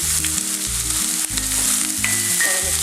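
Chopped banana stem sizzles loudly in a pan with fried ginger and garlic, a dense close frying hiss with stirring, alongside steady tonal background music.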